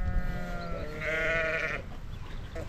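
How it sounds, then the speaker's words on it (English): Suffolk lambs from New Zealand bleat outdoors on a farm during lambing season, several overlapping wavering cries close by, one louder and longer call in the middle, over steady wind noise. "So these New Zealand Suffolk lambs."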